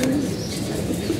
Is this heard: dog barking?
no